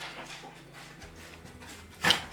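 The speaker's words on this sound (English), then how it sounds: "I've no idea what the dog's doing, so let's ignore him." A dog pants softly in the background of an indoor room, a quiet rhythmic breathing with one brief louder whimper-like burst near the end.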